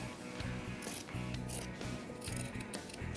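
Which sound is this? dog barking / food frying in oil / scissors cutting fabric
scissors cutting fabric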